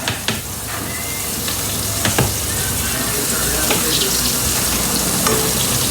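Beef browning over high heat in a pan for a fall beef stew sizzles loudly and steadily, a dense crackling hiss with scattered sharper pops and spatters, close up and with no talking.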